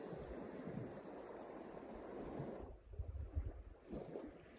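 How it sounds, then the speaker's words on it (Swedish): Sea waves washing onto a beach a couple of metres away, a steady broadband wash with wind buffeting the microphone, swelling and easing in soft surges, no talk. "Vi hör havet bakom mig. Jag står här 2 meter från havet."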